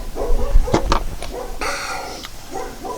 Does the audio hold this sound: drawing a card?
no